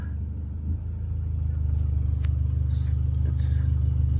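A high-mileage Ford Fusion with a check engine light on idles smoothly close by: a steady, low, even engine rumble with a regular pulse that holds throughout, a few faint clicks and knocks above it.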